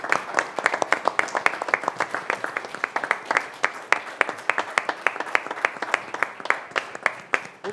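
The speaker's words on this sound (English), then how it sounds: "how about a round of applause for Garrett and Meg" A small audience at a city council meeting gives a round of applause, the individual claps sharp and distinct, moderately loud and fairly quick, continuing steadily for several seconds without speech.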